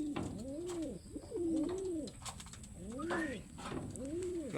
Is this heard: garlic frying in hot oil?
no